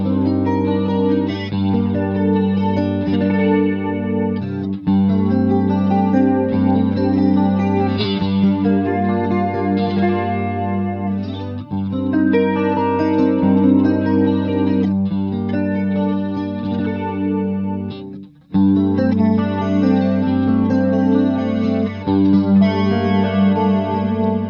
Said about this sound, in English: I'm going to drop a chorus effect on this channel here.